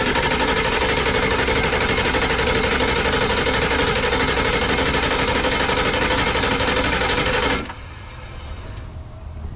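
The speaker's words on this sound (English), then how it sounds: "So I expect this to crank a little bit" A Ford 7.3L Powerstroke diesel in an OBS truck cranks after oil system work, a loud steady rapid churning drone for several seconds that cuts off abruptly into a quieter hum.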